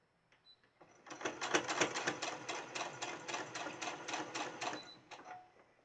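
A sewing machine runs a basting stitch on fabric for a crib hanging organizer, giving a close, rapid mechanical clatter that lasts about four seconds and is framed by faint handling clicks before and after.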